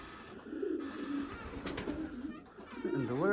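Racing pigeons cooing inside a loft, a low throaty murmur running through the clip that swells louder toward the end, with some rustling and chirpy calls mixed in.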